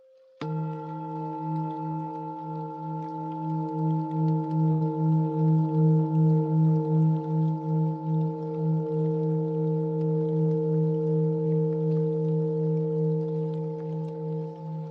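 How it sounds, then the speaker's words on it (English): Solar plexus singing bowl struck on its bass note, a steady deep hum with pulsing, wavering overtones that swells and sustains for about fifteen seconds, alone with no talk. "Solar plexus singing bowl. Here's what it sounds when we play the bass note."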